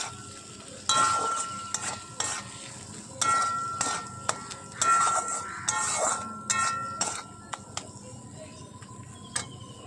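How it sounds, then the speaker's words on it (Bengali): A spiced mixture with salt and cumin powder sautéed in a pan for a jackfruit curry: a steady low frying hiss under repeated scraping and knocking of a spatula against metal, with a faint voice now and then. "তো এখন এরপরে আমি একটু ভালো করে এটাকে কষাতে থাকবো।"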